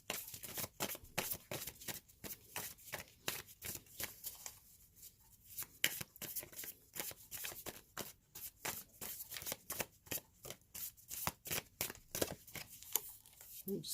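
Slick tarot cards are shuffled close up in quick, rapid bursts of dense flicking riffles, quiet and continuous, with a voice speaking softly now and then.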